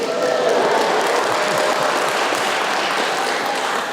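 A church congregation at an All Saints' Sunday service breaks into full, continuous applause that stays even and close throughout before easing slightly at the end.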